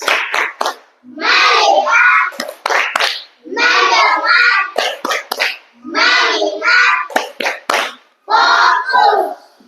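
Children in an Indonesian classroom clap a rhythmic counted focus pattern together, sharp hand claps in quick bursts alternating with their chanting voices, loud and close.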